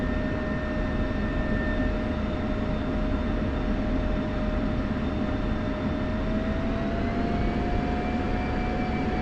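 An F-16 jet taxiing in a flight simulator game gives a steady, loud engine roar with a constant whine that rises slightly in pitch toward the end, with no talking.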